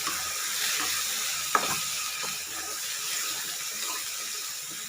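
Ground ridge gourd chutney fries in a pan and is stirred, producing a steady close sizzle with soft scraping and wet mixing sounds and one sharp utensil tap, with no talking.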